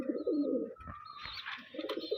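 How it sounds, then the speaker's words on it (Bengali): Domestic pigeons from a breeding loft coo in low, throaty bursts at the start and end, with a brief chirp and brighter twittering between, close and fairly clear. "খুব ভালো পায়রা।"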